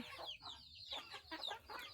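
Small chicks and larger young chickens peep and cluck at a farm: a busy, continuous stream of high chirps and soft clucks, fairly faint and close, with no voices.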